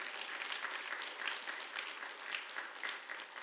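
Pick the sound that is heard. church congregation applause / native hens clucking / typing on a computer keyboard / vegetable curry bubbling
church congregation applause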